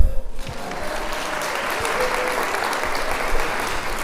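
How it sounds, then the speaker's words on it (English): An audience at a healthy aging morning session claps for a speaker named Barbara. A dense, even burst of applause from the crowd fills the room after a brief quieter start and holds steady throughout. "Let's have a round of applause for Barbara."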